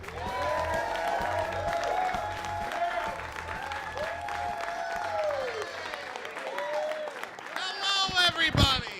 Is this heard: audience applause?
yes